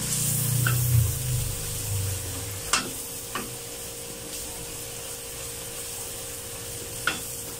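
Garlic sautéing in a pan for butter garlic crab and shrimp, a steady soft sizzle with occasional clinks of a utensil against the pan, close up and alone.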